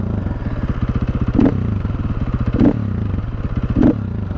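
A KTM 450 EXC motorcycle with its original exhaust idles in a steady, fast-pulsing thump, with three short louder blips or clatters spaced about a second apart, close and alone.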